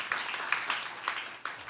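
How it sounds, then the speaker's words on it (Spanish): A church congregation applauds during a discipleship class, a moderate, fairly soft round of clapping with a few distinct louder hand claps popping out of the steady patter. "Denle un aplauso al Señor, claro que sí"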